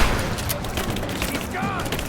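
Enemy gunfire in Rise of the Tomb Raider crackles in scattered, overlapping shots and booms amid game noise, loud and continuous, with a voice speaking over it.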